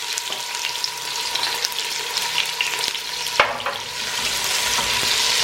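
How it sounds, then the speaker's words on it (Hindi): Long-sliced onions fry in a pan for spinach kofta curry, with a steady loud sizzle and occasional stirring clinks and scrapes from a utensil, close by with no talking. "प्याज को हम हल्का गोल्डन कलर कर लेंगे"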